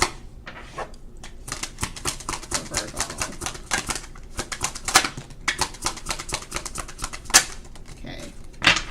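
Tarot cards being shuffled and drawn from a deck, a dense run of quick papery riffles and flicks with sharp snaps, close and fairly loud, continuing steadily with no talking.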